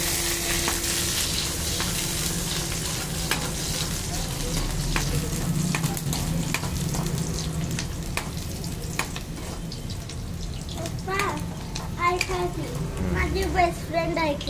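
Chopped onion frying until browned in a pan on a lowered gas flame, a continuous close sizzle with utensil clinks and stirring, while people talk over it at times.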